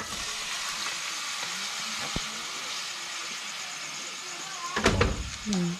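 Goat meat and skin sizzle in a hot pan, a dense steady frying hiss, with a sharp knock midway and louder clattering and stirring near the end; voices join briefly at the close.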